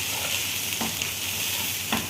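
Egyptian koshari sautéing in a pan, giving a steady bright sizzle broken by a few soft stirring scrapes, close and continuous, with nobody talking.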